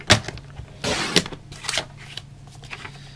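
Cardstock being cut to size on a paper trimmer for handmade greeting cards: a few short, sharp swishing slices and papery rustles, close and fairly quiet, with no talking.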